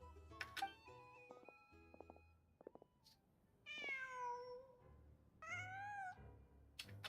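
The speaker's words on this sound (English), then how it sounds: "Just a cat." A cat in Genshin Impact gives two drawn-out meows, clear and close, after a stretch of soft chiming game tones.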